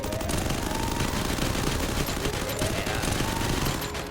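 Rapid, dense bursts of automatic gunfire crackle continuously through a competitive video game match, loud and sustained across the whole span.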